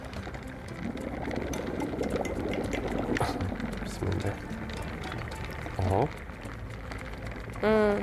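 Soap solution foams up into bubbles under pressure, giving a bubbling, hissing pour, with a few short gurgling bursts and a rising squeal at the end, partly under speech.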